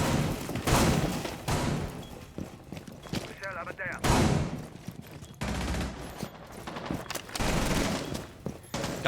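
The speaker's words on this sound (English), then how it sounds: "Gunfire going down already." Bursts of video game gunfire crackle and pop in quick clusters, with a voice talking over much of the action.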